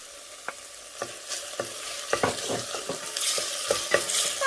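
Green pepper fries with tomato paste in a pan, holding a low steady sizzle while a spoon gives a series of quick clicking scrapes against the pan. The sizzle swells toward the end.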